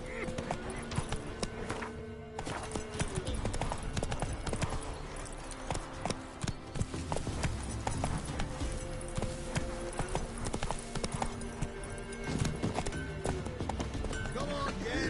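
Roach the horse gallops in The Witcher 3, hooves beating a quick, steady clip-clop under game music and effects, with a brief neigh and a voice talking over it.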